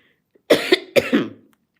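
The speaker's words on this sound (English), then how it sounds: "I got a cough, excuse me" Two sharp, close coughs in quick succession, each a harsh burst followed by a short rasp, then silence.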